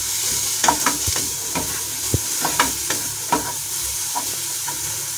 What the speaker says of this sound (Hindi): अब मैं इसमें ये गाजर डाल दूंगी। इसको हल्का सा मैं फ्राई कर लूंगी गाजर को।